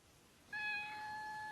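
A cat meowing from up in a tree, in an animated scene: one sustained, clear tonal call begins abruptly partway in and holds steadily to the end, fairly close, with no talk over it.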